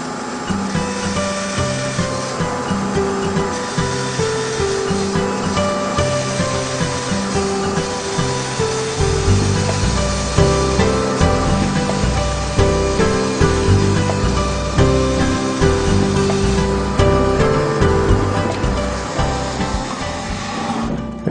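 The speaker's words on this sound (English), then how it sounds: "Let me show you another type of cut you can do in plastic." A Laguna Resaw King band saw blade cuts through a piece of plastic in a workshop, giving a steady, loud machine whir with a rasping cut that swells midway and holds to the end, with no talking.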